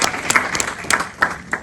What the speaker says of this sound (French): Je vais vous prier, s'il vous plaît, de les applaudir chaleureusement.